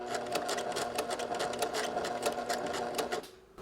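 Close sewing machine stitching a bolero collar at a short stitch length, a fast continuous whirring chatter for about three seconds before it stops abruptly.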